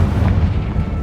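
A single Confringo fire spell explosion in Hogwarts Legacy, a brief deep rumbling boom, loud and close with no other sounds.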